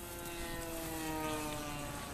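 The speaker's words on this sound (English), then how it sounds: "This little plane." A small propeller plane drones overhead in a steady, sustained hum that stays fairly loud and constant across the short stretch, with no voices.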